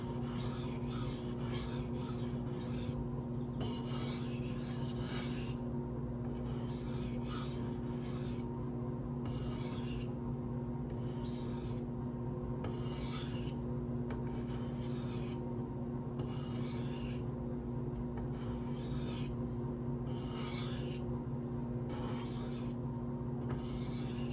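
A Protech TR-3 knife with a Magnacut steel blade is drawn in alternating passes across a 2500 grit sharpening stone, giving a steady series of close, rhythmic rasping strokes about a second apart over a constant low hum.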